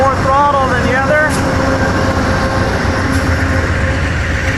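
Southbound Amtrak train locomotive passing through Lynchburg, Virginia, a steady loud rumble and engine drone with a horn-like tonal sweep near the start, a voice talking over it.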